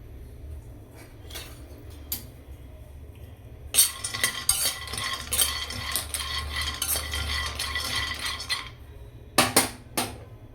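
Almonds dry-roasting in a hot kadhai, scraped and stirred with a metal spatula: scattered clinks early, then a dense stretch of rattling and scraping, ending in a few sharp metallic knocks.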